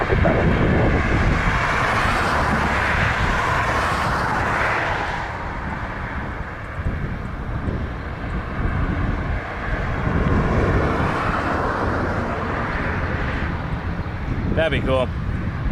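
An Air Transat airliner landing on runway 24 right at Toronto Pearson, its steady jet roar and rushing air filling the scene, with wind noise and voices talking over it throughout.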